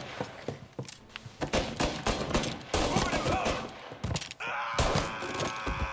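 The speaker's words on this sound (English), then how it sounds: "Damn, this shotgun." Shotgun fire in Mafia: Definitive Edition, a series of sharp loud blasts in irregular bursts mixed with thuds and impacts, with a player talking between shots.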